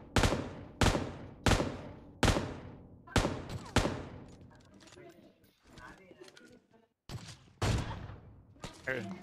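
Rapid bursts of gunfire in a battle royale shooter game, several loud sharp shots with quieter clatter between, as someone talks over them.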